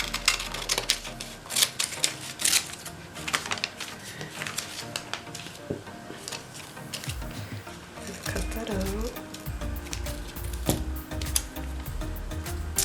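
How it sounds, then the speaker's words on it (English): Scissors cut out paper for a collage page, with a series of close, crisp snips and paper rustling, some coming in quick bursts. "So we're gonna cut that out"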